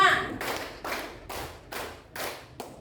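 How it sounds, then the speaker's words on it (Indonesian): Children in a classroom clap in time with a counted clapping game, giving a series of about five sharp group claps at an even pace, close and distinct, with gaps between each burst. "tepuk 2, tepuk 3, tepuk 4, tepuk 5"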